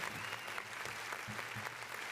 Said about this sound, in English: Too much applause.